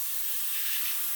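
Airbrush spraying metallic paint on an Airfix 1/72 Hurricane Mk.1 model kit, a steady close airy hiss held without a break.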